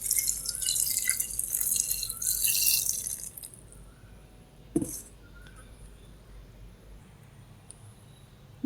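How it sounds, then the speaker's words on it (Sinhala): Thin coconut milk is poured into a curry of kohila shoots and jackfruit seeds, a soft liquid splash for about three seconds that fades to a quiet simmering hush, with one brief clink partway through. "මේකට දිය කිරි ටික දාගන්න."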